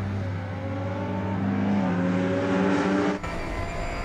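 Race cars roar down the front straight at Oschersleben as a big Dodge Viper passes the number 3 Aston Martin. A loud, close, sustained engine drone rises in pitch, then cuts abruptly.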